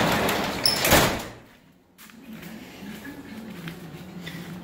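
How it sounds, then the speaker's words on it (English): Garage door pulled shut in a home workshop during a 1958 MGA restoration, a loud rolling clatter ending abruptly, then quiet room hum with faint background noise. "Close the garage door."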